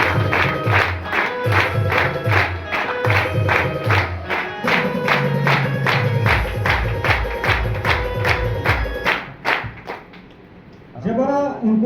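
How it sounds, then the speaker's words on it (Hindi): An audience at a meeting in Saidpur gives Mr. Ramakant a round of applause: many hands clap in a fast, even rhythm, loud and close, fading near the end before a brief burst of other sound. "हमारे बड़े भाई मिस्टर रमाकांत सर के लिए एक शानदार ताली होनी चाहिए"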